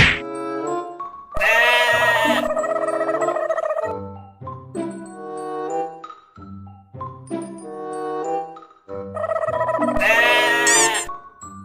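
A female goat bleats loudly and close in a few long wavering calls, separated by shorter sounds and quieter gaps.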